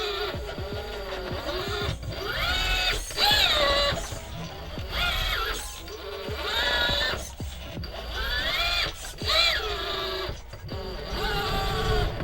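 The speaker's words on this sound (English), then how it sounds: "That Holmes motor is fantastic." A Holmes electric motor runs with a whining, tonal hum over a low rumble, its pitch repeatedly climbing and falling as it speeds up and slows down across the stretch, steady and close with no talking.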